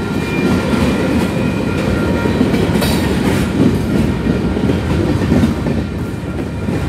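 A Canadian Pacific freight train led by an AC4400CW locomotive rolls past close by, a steady loud rumble with rhythmic clattering of wheels on rails throughout.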